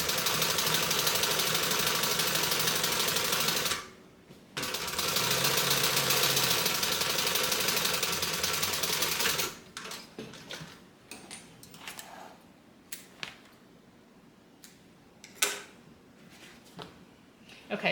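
A sewing machine top stitching a fabric bag runs in a loud, steady mechanical whir for about four seconds, pauses briefly, then runs again for another five seconds before giving way to quieter handling clicks and rustles.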